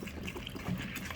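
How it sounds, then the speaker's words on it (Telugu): Soaked moong dal gets a rinse under fresh water, a soft steady trickle and swish of liquid, quiet and close, lasting only a moment with no voice over it. "కొద్దిగా మంచి వాటర్తో కూడా శుభ్రంగా వాష్ చేసేసుకోవాలి."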